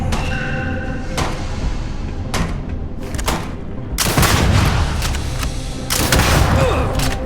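Gunfire from a short-range weapon with a small magazine in the video game Starfield, with two bursts of loud, close shots after a stretch of quieter thumps and ambient game sound.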